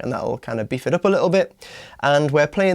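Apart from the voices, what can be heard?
No everyday noise stands out behind the speech.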